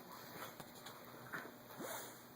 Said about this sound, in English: The dog's going fucking crazy over here.